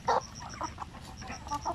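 Black Australorp and Basilan native chickens, including roosters, cluck and call in a breeding pen. The short, repeated clucks are close and lively, with other birds audible behind them.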